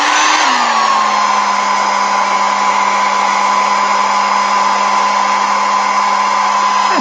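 A hair dryer blows steadily close by to dry paint on a gel printing plate print in an art journal, a loud constant whirring hum that settles in pitch right after switching on and keeps running throughout.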